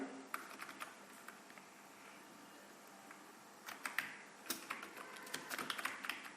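Keys clatter on a computer keyboard while text is entered into an Excel spreadsheet, quiet close-up taps coming in short irregular bursts with brief pauses between them.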